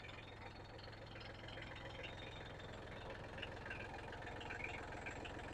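A 1990 Kioti LB2614 gear tractor with a front bucket idles steadily and close by, its diesel-type engine thrumming with an even knocking pulse throughout, no talk.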